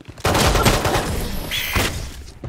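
Sniper rifle gunfire in the video game Valorant, a loud sudden burst of shots that rings out across a couple of seconds with a brief tonal whine midway.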